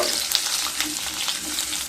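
Cut potatoes fry in a pan over low to medium heat, a steady close sizzle and crackle that runs on without a break.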